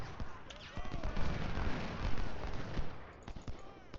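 Musket volleys and scattered gunfire in Ultimate General: Civil War, a Chancellorsville battle, crackling in rapid uneven bursts at moderate level over a busy battlefield din.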